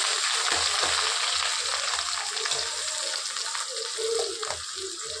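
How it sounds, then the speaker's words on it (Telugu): Chopped onions and curry leaves sizzle and crackle steadily in hot oil in a pan, a close bright frying hiss with occasional stirring clinks. "ఎర్రగడ్డలు అప్పుడు ట్రాన్స్పరెంట్ అయ్యేంత వరకు వేయించుకునేసేయండి"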